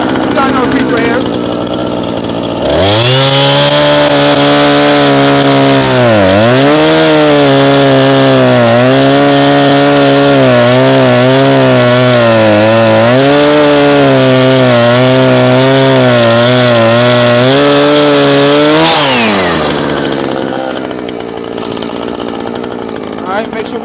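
Husqvarna chainsaw cutting a log for a Swedish fire log, very loud and close, the engine revving up then bogging and surging as the chain bites through wood before winding down.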